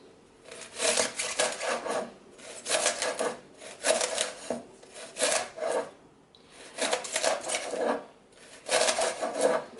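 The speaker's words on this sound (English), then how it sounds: "So you try to slice the leeks all the same size, so it's going to cook evenly." A knife slicing through washed leeks on a cutting board, heard as repeated rasping strokes in rhythmic bursts of about a second each with short pauses between, close and clear.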